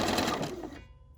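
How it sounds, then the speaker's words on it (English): Sewing machine running a decorative stitch on a stitched postcard, a steady dense whirring hum close by that stops abruptly just before the end. "And now we're going to stitch the mirror version of the stitch."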